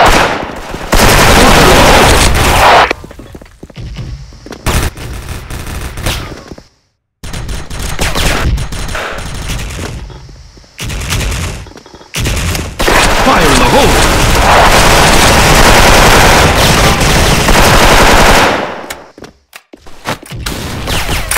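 The Blood Unicorn M4A1 2nd Gen rifle fires in the shooting game Bull Soldier Front, loud close bursts of rapid automatic gunfire with booms, broken by a few short silent pauses.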